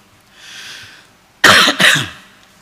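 Two harsh, loud coughs in quick succession, close by, after a quiet stretch of faint background hiss.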